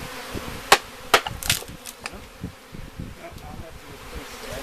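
Honey bees from a package swarm buzz in a steady low hum near the hive during installation, with a few sharp knocks and taps of hive equipment breaking through.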